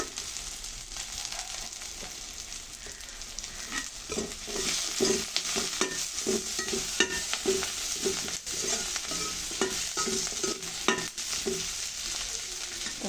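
Garlic sizzles in a pan as it is stirred for a drumstick and jackfruit-seed curry. A constant frying hiss runs under repeated spatula scrapes and knocks, heard close up and without talk.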